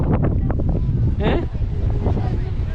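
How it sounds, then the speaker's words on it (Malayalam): Wind on a beach at Durdle Door buffets the microphone in a low, rumbling rush that lasts throughout, with people talking close by over it. "വീണ്ടും കാറ്റ് തുടങ്ങിയല്ല"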